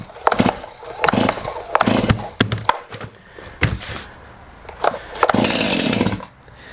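A Stihl chainsaw is pull-started with the choke on, giving a series of sharp rope-pull rasps and brief engine coughs close by, repeated several times until it sputters.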